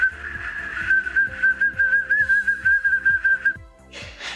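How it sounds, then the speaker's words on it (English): A puppy blows a toy whistle in a home, producing a string of about a dozen short, shrill, pulsing toots in a steady rhythm, followed by a brief rustle. "This is how you actually get a dog to play a whistle."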